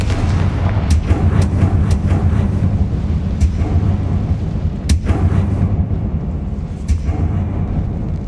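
A Confringo blasting spell in Hogwarts Legacy fires repeatedly as a string of sharp, booming blasts over a dense rumbling low background, with the loudest hits near the middle and end.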